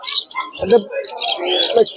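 Ringneck parakeets at a bird market in Mirpur, Dhaka, giving loud, close, rapid shrill chirps and squawks in quick bursts.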